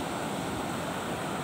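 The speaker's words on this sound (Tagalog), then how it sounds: "Medyo malaki po ang alon ngayon o" Large ocean waves on a windy beach, a loud, steady roar of surf mixed with wind noise, with no talk.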